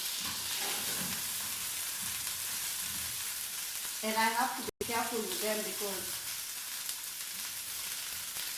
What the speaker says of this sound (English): I'm cooking my sausages and they are so frozen. That's why you hear the noise.